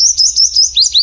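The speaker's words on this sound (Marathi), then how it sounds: "ह्याचाही आवाज खूप सुंदर असतो, ह्याचा आवाज ऐकूयात आपण." Sunbird calling in Maharashtra, a rapid series of high, thin chirps repeated in quick bursts, loud and close with nothing else heard.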